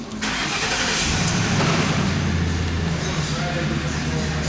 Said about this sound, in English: Crank, start, and run.